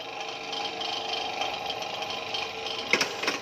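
A line boring machine cuts a 63 mm bushing for a 15 mm pin with a continuous whirring mechanical hum, close and steady, with a small rattling burst near the end.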